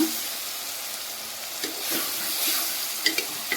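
Brinjal frying in oil in a pan, giving a continuous soft hiss and sizzle with a few light stirring taps.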